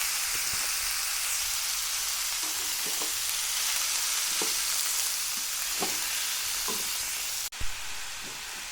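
Mushrooms and chicken stir-fry in a pan, an even crackling sizzle punctuated by soft, regular stirring knocks, ending with a sudden louder clatter.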